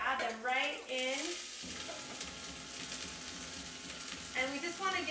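White onion and poblano chili strips frying in canola oil give a steady, close sizzle. A voice talks over it at the start and end.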